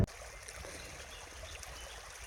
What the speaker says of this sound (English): I've made it down to the creek.